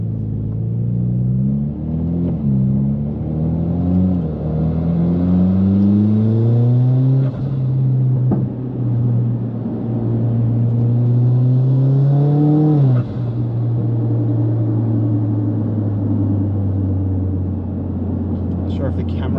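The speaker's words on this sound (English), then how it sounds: "just the blow-off valve has a bit of a different sound" Mitsubishi Evo X pulling through several gears with rising engine revs and drops at each shift, a brief turbo blow-off valve whoosh on a lift, loud interior rumble throughout.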